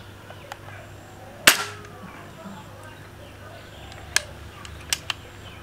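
An air rifle fires a rejected 11-grain pellet through a chronograph, giving one sharp, loud crack followed by a brief ringing decay. A few fainter clicks and ticks come later over low background hum.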